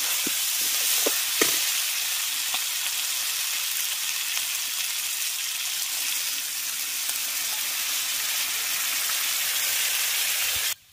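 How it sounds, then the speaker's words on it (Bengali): Water poured into a pan of frying potatoes, papaya and chana dal sets off a steady, loud sizzle close by, with a few sharp crackles and spits near the start, cutting off sharply at the very end. "এরপরে আমি এর মধ্যে জল দিয়ে দেবো।"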